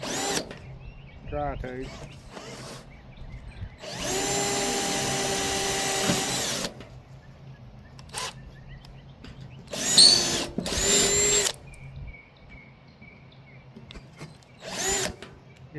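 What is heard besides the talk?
drill with 1/8 bit drilling out spot welds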